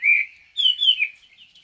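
Caged red-whiskered bulbul singing close by: a bright warbling phrase, a short pause, then two more clear rising whistled notes trailing into softer twitters, with no talking.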